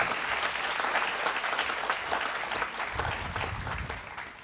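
An auditorium audience at a science conclave applauds, steady dense clapping from many hands that holds evenly and tapers slightly toward the end, no talking.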